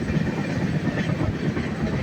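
Onboard a fast-moving Deccan Express, a continuous roar of the rails with clickety-clack wheel rhythm, loud and close, with no talk.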